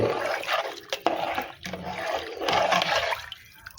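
Raw rice poured into a pot of boiling water for South Indian sambar rice: a steady watery rush and splashing that swells and dips for a few seconds, close and fairly loud, with no talking.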